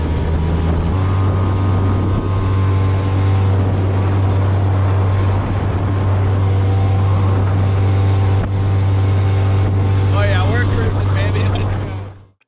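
An outboard motor drives a small boat across open water, a loud, steady low engine drone with a constant hum running nearly the full span, wind and water rushing around it, before cutting off abruptly at the end.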